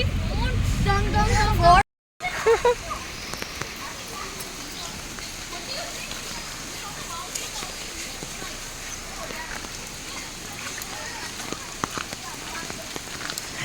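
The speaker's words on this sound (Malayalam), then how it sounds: "ഭയങ്കര മഴയാണ്" Dense, steady rain hisses continuously, with scattered drips and patters; brief talk at the very start.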